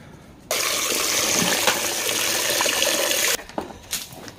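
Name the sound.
water being given to animals to drink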